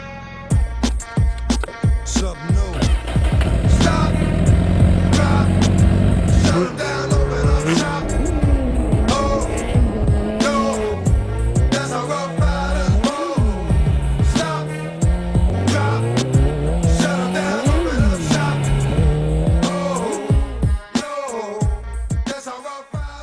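A modified 200 hp motorcycle accelerating at full power, its engine note climbing in repeated rising sweeps through the gears, loud and close, with no speech.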